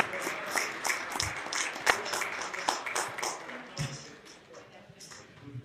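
Applause for a diocesan administrator at a church talk sounds like a room of people clapping in a dense, moderately loud patter that thins out toward the end, with voices talking over it.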